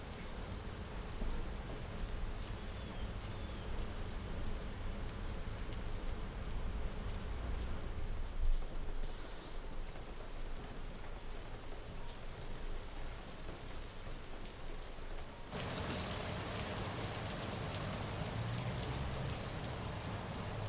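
Steady rain pours continuously, a dense hiss of drops on surfaces with a faint low rumble, shifting slightly in texture partway through.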